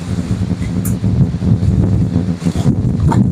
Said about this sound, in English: yeah, here comes the wind.